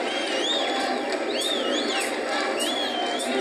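A concert crowd in Bizerte cheers, whistles and shouts for an encore, a dense continuous roar with shrill whistles rising above it throughout.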